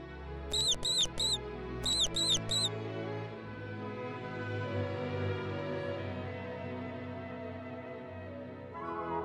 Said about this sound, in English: The mouse says squeak-squeak.